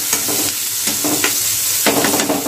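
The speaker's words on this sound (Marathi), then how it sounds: "कांद्याला पण चांगला कलर येईपर्यंत आपण फ्राय करूया." Onion frying in hot oil in a pan for a masala bhindi dish, with a steady loud sizzle and bursts of stirring scrapes throughout.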